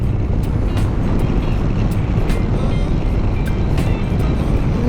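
A Triumph 400 motorcycle engine holds a loud, steady running drone with dense rumble and wind-like roar throughout, no breaks or clear revving changes.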